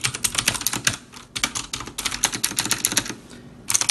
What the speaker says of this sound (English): It's nice and loud. Exactly what you, I guess, want in a mechanical keyboard.